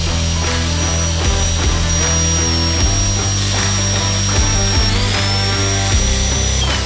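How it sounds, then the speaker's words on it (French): A power drill bores under a car, a loud, constant whirring drone with a grinding, stuttering edge that holds steady throughout, close to the mic. "Et là on va aller percer."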